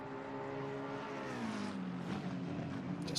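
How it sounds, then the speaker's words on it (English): A race car's exhaust note at Suzuka circuit, a droning engine tone that slides down in pitch as the car passes, heard moderately from a distance without talk. "Just listening to the exhaust notes are just absolutely glorious"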